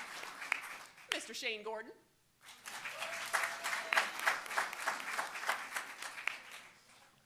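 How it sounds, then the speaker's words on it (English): Audience at a city council meeting applauds as each person's name is called, with a short burst of clapping, a pause, then steady sustained applause mixed with a voice speaking over it. "We're still going to clap for him"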